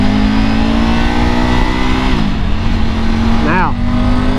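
A 2021 Triumph Tiger GT Pro motorcycle engine running steadily at about three-quarter throttle, a loud, close, continuous drone that dips slightly midway, with a brief rising and falling tone near the end.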